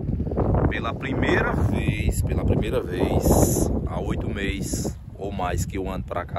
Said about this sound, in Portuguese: Desculpa o vento aí que vai ter muito.